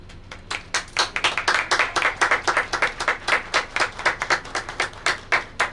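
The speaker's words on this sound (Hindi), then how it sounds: "जोरदार तालियां हो जाए" An audience claps at a Hindi stage play about Sudama at an opening ceremony. The applause is loud and sustained, with dense clapping that rises and falls steadily throughout.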